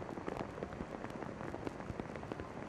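Heavy rain pouring down during a 2021 NWSL women's soccer match between Chicago Red Stars and Racing Louisville, a steady crackling hiss with scattered patters, fairly faint and without voices.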